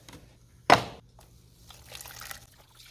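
Used Evapo-Rust rust remover poured into a container for soaking an old axe head: a short, sharp splash near the start, then a faint, quiet trickle and dribble with no talking.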